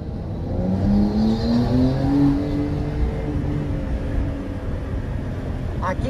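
A Porsche accelerates hard, its engine note climbing steadily in pitch through a gear before settling into a loud, sustained drone, heard up close from inside the car.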